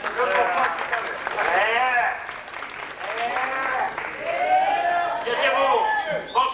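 An audience applauds loudly and steadily for a performer at a French stage show, a dense sustained wash of clapping with voices and chatter mixed in.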